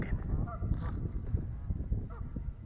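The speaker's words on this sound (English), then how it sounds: "You can hear them kind of squawking." Canada geese on a lake give repeated harsh honks and squawks in irregular bursts over a few seconds, fairly close, against low outdoor rumble.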